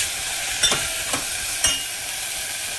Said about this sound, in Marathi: आता याला छान परतून घेऊया जोपर्यंत हे आपले टमाटर एकदम नरम होत नाही